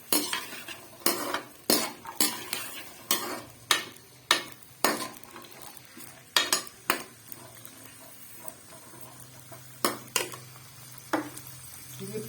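Carrots and peas frying in ghee in a pan for vegetable fried rice, stirred with a utensil that clinks against the metal in a steady run of sharp scrapes over a soft sizzle, no voices.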